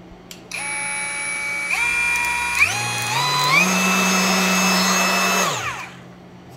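A SPTA cordless rotary polisher runs up through its speeds to the highest. Its steady motor whine steps upward in pitch several times, holds at top speed, then spins down.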